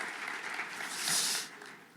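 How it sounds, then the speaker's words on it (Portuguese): A church congregation applauds during a Portuguese-language worship service, a fairly faint, steady wash of clapping that swells briefly near the middle before easing off. "Vamos aplaudir o Senhor."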